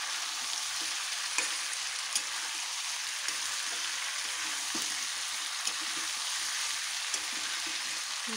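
Chicken curry sautés with pre-fried potatoes and chili oil in a pan, giving a steady, close sizzle with faint clicks from stirring.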